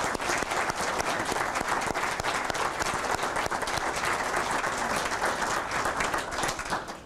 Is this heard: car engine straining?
no